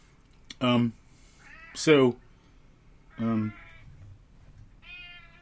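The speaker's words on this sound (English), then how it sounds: "My cat's talking." A cat meows several times in distinct, fairly loud calls spread over a few seconds, with quieter breathy vocal sounds between them and no talking.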